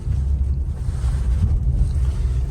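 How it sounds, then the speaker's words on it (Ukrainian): A 2013 Hyundai Santa Fe with an automatic gearbox and about 195,000 km on it runs with a steady, loud low engine rumble heard from inside the car. No distinct gear change stands out. "Послухаємо, як працює моторик, переключає коробка."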